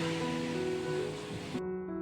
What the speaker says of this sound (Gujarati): એક બાજુ પણ ચણા પણ બોઇલ થઈ રહ્યા છે તમે જોઈ શકો છો